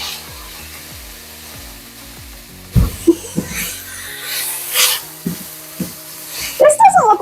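Ground meat sizzles in a properly preheated pan for Filipino-style empanada filling, a loud hiss that starts suddenly partway through with clattering utensil knocks and stirring, following quieter background music.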